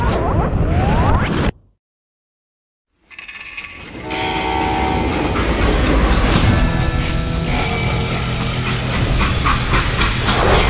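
A video game train in Call of Juarez: Gunslinger rumbles and clanks along the rails, and a horn sounds. A brief silence breaks it near the start, then the steady rolling noise returns, loud and close.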